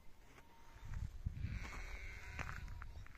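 An injured, stressed sheep bleats in short wavering calls over a rough, noisy outdoor background, the cries fairly close and repeated, with no talking.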